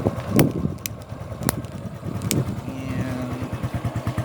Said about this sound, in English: this is the sound test of this Raider R150